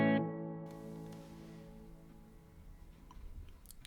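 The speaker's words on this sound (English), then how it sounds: "You'll hear how dark the reverb is" An electric guitar chord played through the Donner Yellow Fall 2 pedal with its reverb set dark rings out and decays into a muffled, fading tail, with faint clicks near the end.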